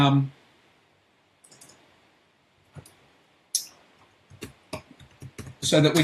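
Account details are typed on a computer keyboard in sparse, close clicks and short bursts of keystrokes separated by quiet gaps, ending in a quick flurry of typing.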